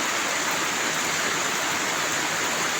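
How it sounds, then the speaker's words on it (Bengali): Steady rain falls as an even, continuous hiss that stays constant throughout and carries no voices. "এক জায়গায় আটক হয়ে গেছি বৃষ্টির কারণে।"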